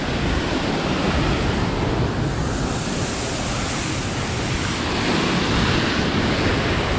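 A constant roar of rushing water fills the scene, broad and steady like a nearby waterfall beside a mountain trail near Squamish, with some wind buffeting the microphone.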